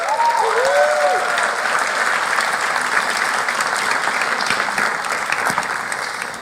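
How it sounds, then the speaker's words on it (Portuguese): A church congregation applauds together in a sustained, dense burst of clapping that fills the whole stretch, steady and fairly loud before tapering slightly at the end, with a faint voice briefly audible at the start. "eu gostava que nós pudéssemos dar uma salva de palmas à base"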